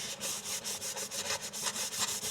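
Kitchen paper wiped back and forth over a matte-lacquered RC car body being weathered with black pigment: quick, even rubbing strokes in a steady rhythm, close and fairly soft, with no talking.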